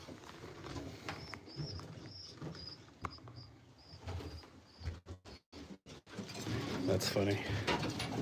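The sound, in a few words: street pigeons cooing in a loft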